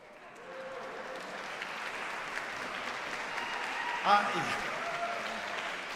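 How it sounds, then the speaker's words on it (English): Applause from a seated audience at a live classical music performance event, a steady, moderately loud wash of clapping that holds for several seconds, with a brief voice or cheer rising near the end. "Thank you for that thunderous applause."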